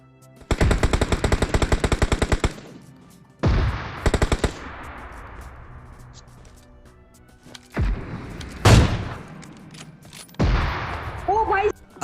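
Rapid automatic gunfire bursts in PUBG Mobile, loud and close, separated by quieter gaps, with a few single heavy shots and faint game sounds between volleys.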